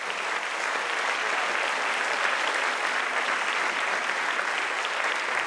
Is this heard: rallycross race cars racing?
no